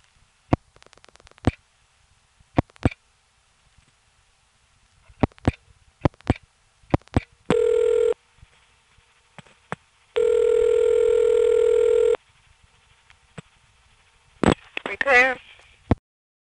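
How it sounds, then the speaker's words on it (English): Telephone line through a step-by-step central office in Florida, NY: rapid rotary dial pulse clicks in bursts, then two long buzzing call-progress tones, ending with a warbling tone, loud and close. "I've reset the trunk again, and I'm going to dial"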